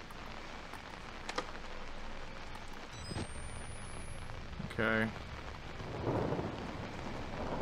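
A thunderstorm with steady rain plays out in the horror video game Outlast, with rumbling thunder and a sharp crack amid the constant hiss of rainfall, while someone speaks briefly.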